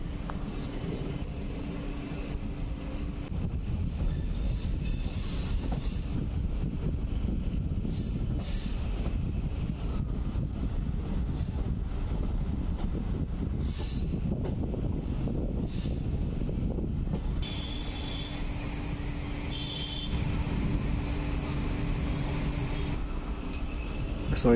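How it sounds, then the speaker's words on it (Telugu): A DEMU passenger train on the Secunderabad–Siddipet line rolls toward Medchal railway station, its steady rumble and rattle heard from on board, with occasional wheel squeal and faint background voices. "సో ఇప్పుడు ట్రైన్ వచ్చేసి దాదాపుగా మేడ్చల్ రైల్వే స్టేషన్ దగ్గరలో ఉంది."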